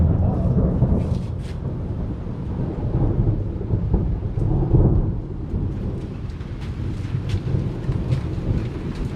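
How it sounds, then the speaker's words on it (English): A thunderstorm brings a steady roar of rain with deep rolling thunder rumbling through the whole stretch, continuous and fairly loud, with no talking. "here comes the storm"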